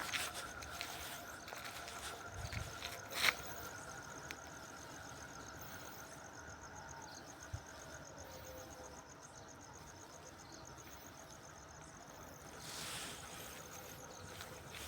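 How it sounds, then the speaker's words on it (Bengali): Water gushes out of a borewell during backwash in a steady, broad rushing wash, faint and distant-sounding, with a few small knocks and no voices. "আমাদের ব্যাক ওয়াশটা চালু করে দিয়েছি। তো দেখো বন্ধু কিরম জলটা আসছে।"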